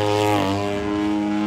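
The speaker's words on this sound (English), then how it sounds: "This is a 120cc sized ball supply and carbon freestyle aerobatic airplane." A 120cc carbon-fiber freestyle aerobatic RC airplane from Skywing flies at a noon-time demo, its propeller engine giving a steady, loud, buzzing drone with a slight pitch dip partway through, with no talk.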